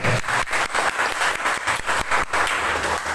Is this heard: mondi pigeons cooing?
no